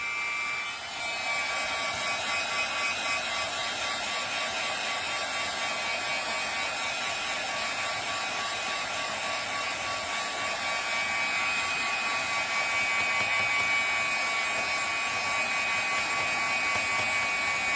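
A steady, high-pitched whirring heat tool drying craft paint runs continuously and fairly loud, droning without pause.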